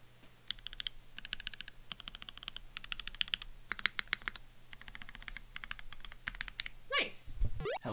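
Fast typing on a Keycult No. 2/65 mechanical keyboard, a close, crisp run of clacking keystrokes in quick bursts with short pauses, over a low steady hum, ending with a louder rustle.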